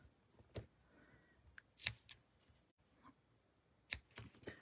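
Scissors trim the ends of a handmade paper baby card, giving a few faint, sparse snips and clicks close by in a quiet room.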